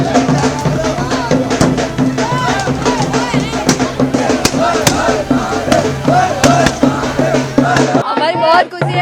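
Firecrackers crackle in a rapid, irregular stream of sharp pops during a village celebration in Mehsana, Gujarat. A busy crowd talks and cheers underneath, close by and loud.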